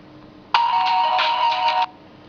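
A MIUI 6 phone ringtone preview plays once as a bright electronic melody lasting just over a second. It is loud and close, with no other sound, and cuts off abruptly.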